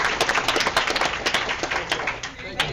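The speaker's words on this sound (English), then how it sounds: "round of applause" Brief scattered clapping from a small group at a board meeting, uneven individual claps close by, with voices talking over it.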